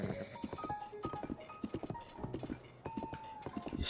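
Horse hooves clip-clop in a steady trotting rhythm in the video game Zelda Tears of the Kingdom, mixed with soft game music and ambient tones and no talk.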